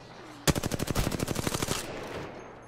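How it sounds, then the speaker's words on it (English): Rapid automatic gunfire in Apex Legends: a sharp burst of roughly fifteen evenly spaced shots fired in quick succession, loud and close, that stops abruptly and leaves a faint tail of background noise. "Yeah, they're shooting."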